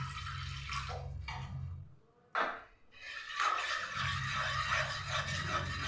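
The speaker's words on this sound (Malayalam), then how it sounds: "ഈ ഒരു രീതിക്ക് ഞാൻ വെള്ളം ഒഴിച്ച് കൊടുത്തിട്ടുണ്ട്" Water poured into a non-stick pan of semolina makes a quiet, steady splashing rush, broken by a short pause and a clink partway through before the pouring resumes.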